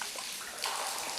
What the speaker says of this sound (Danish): der er ret mange steder, hvor der drypper vand ned